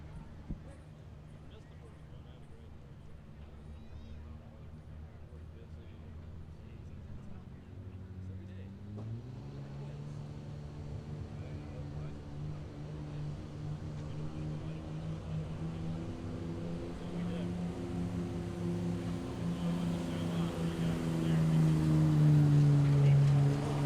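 2004 Dodge 5.9 Cummins diesel truck with common-rail injection pulling at a 4-H fair, its engine droning steadily and building in loudness toward the end, with an announcer talking over it.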